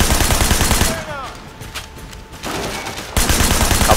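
Gunshots ring out in the open-world game Sleeping Dogs: a few sharp, quick cracks in the middle of the clip, set between stretches of louder, busy game ambience.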